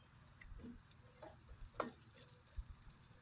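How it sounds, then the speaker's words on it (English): Chanterelle mushrooms dry fry in a pan without oil or butter, giving a faint, soft sizzle broken by scattered light ticks and small pops, with no voices. "dry fry them and cook the moisture out of the pan or of the mushrooms."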